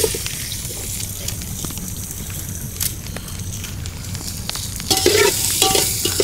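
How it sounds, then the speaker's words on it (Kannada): Chopped onions fry in hot ghee for a village-style country chicken curry, a dense, close sizzle with stirring scrapes that grows louder and crackles more near the end, with no talk. "ತುಪ್ಪ ಕಾದಿರೋದಕ್ಕೆ ಕಟ್ ಮಾಡಿರ್ತಿರೋ ಈರುಳ್ಳಿ ಹಾಕ್ತಾ ಇದ್ದೀನಿ."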